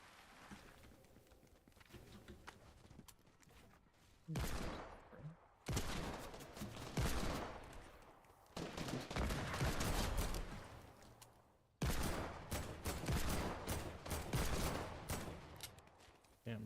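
Rapid hand cannon gunfire in a shooter video game, dense crackling volleys in several loud sustained bursts separated by brief quieter pauses, with faint talk in the background.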